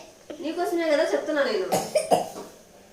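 A child coughs after eating ice cream, several short harsh coughs mixed with voiced sounds at close range, with speech around them.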